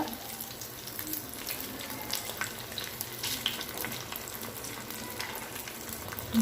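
Coated paneer pieces shallow frying in a pan, a continuous close crackling sizzle with scattered sharper pops, steady in level and without any talking.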